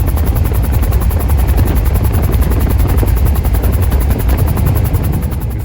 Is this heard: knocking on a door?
no